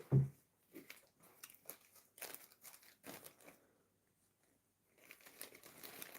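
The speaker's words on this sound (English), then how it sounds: "And I want to put that also in a plastic bag." Intermittent plastic crinkling and rustling in short bursts, close by, with brief pauses and a quiet gap before more handling.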